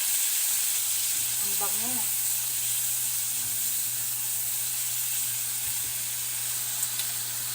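Garlic, red onion and tomato frying in a pan, a steady soft sizzle and hiss running throughout, with a brief voice speaking over it near the two-second mark.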